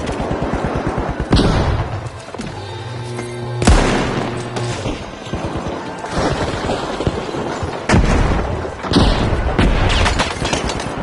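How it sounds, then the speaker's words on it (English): Frag grenades and gunfire in the game The Finals, several sharp, loud booming blasts spaced a few seconds apart, with rapid shots and debris between them, and a brief voice in the mix. "Frag grenade set!"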